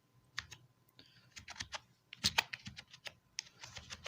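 Typing on a computer keyboard while building an HTML web form, close and clear: irregular bursts of crisp key clicks with brief pauses between them, no voice.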